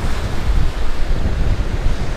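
Rushing river water beside a waterfall on a trout creek, a steady broadband roar that is loud and continuous throughout, with no voices.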